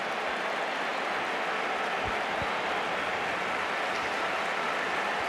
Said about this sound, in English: The applause for first sighting of the new boy